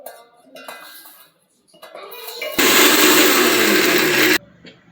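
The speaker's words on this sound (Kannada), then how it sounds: "ಇದನ್ನಷ್ಟೇ ಫಸ್ಟ್ ಮಿಕ್ಸಿಗೆ ಹಾಕಿ ಗ್ರೈಂಡ್ ಮಾಡೋಣ" A mixer grinder whirs loudly for about two seconds as it blends green chillies, garlic and a little cumin, after some light clinking and handling of kitchenware.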